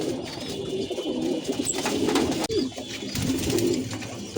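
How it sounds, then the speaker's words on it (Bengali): Female Mushaldom pigeon cooing in a steady series of soft, low, throaty coos, close and clear, with faint background noise and no talk. "তো ভিউয়ার্স, এই হচ্ছে মাদি কবুতরটি"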